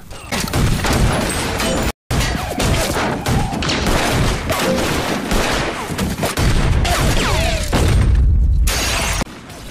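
Rapid bursts of gunfire and loud impacts fill the scene, with shattering and thuds, near and intense, broken by a brief silent cut, with shouting voices mixed in.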